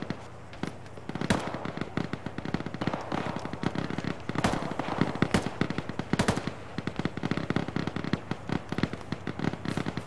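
Sustained automatic gunfire in the military shooter Arma during a ShackTac session: dense bursts of rapid shots with sharper loud cracks spread throughout, a continuous firefight with no pauses.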